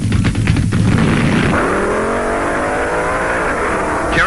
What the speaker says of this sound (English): Then it was Gene Snow's rambunctious Dodge Challenger to go against Gabriel and Wagner's Long Beach Firebird Pontiac.